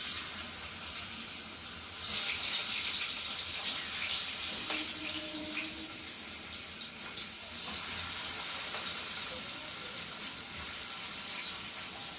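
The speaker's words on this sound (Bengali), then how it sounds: "তেলটা গরম হয়েছে। আর এখন আমি একে একে এই যে সবজিগুলো দিয়ে ভেজে নেব" Pumpkin and other vegetables dropped into hot oil give a steady, quiet sizzle with soft crackling that swells a little partway through.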